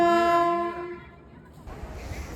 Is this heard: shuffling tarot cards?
no